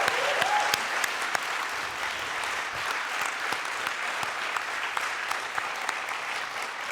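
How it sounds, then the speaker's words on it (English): An audience at a graduation ceremony breaks into sustained applause: dense, even clapping from a large crowd that holds steady throughout, heard from within the hall. "Can we give a round of applause for the best year of our lives?"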